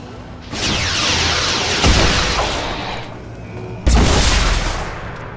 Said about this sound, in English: Cannons away.